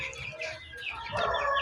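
Meat chickens clucking on a farm with new livestock, a steady run of close, overlapping clucks and bird calls throughout, growing busier and louder toward the end, with no talk.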